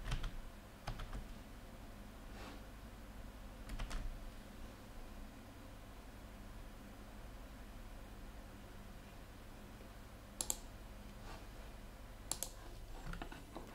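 Typing on a computer keyboard while installing and configuring Lenovo xClarity: sparse, faint key clicks with a few sharper taps near the end, over a steady low hum of background noise.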